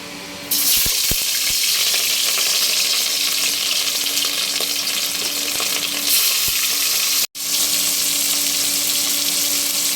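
Fish pieces frying in hot oil make a loud, continuous crackling sizzle close by, with occasional utensil clicks and a brief dropout near the end before the sizzle resumes.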